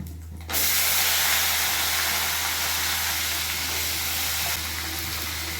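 Brinjals drop into hot oil tempered with spices and asafoetida, setting off a sudden loud, broad sizzling hiss that holds steady for several seconds with a low hum beneath.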